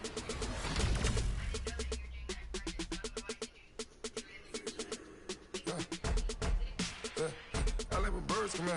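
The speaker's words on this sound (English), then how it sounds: "I like when birds come out." Doves or pigeons coo in a PS4 video game, with rapid rhythmic pulsed calls repeating through the middle of the clip, mixed with game sounds and brief talk at the start.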